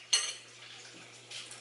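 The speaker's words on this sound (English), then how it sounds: "Now wash the dishes." Dishes being washed in a home kitchen: a sharp clink of cutlery and pots at the start, a quiet stretch, then another light rattle, faint and close with a low steady hum beneath.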